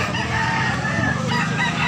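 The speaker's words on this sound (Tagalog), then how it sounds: "Guwapong manok." A rooster crows loudly and close, a continuous, rough call filling the short clip, with farmyard clucking in the background at a Cebu fowl sale.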